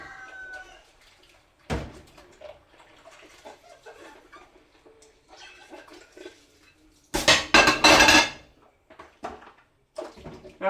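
Cat dishes clink and clatter in a sink amid running water, with bursts of louder splashing and scrubbing, close and intermittent.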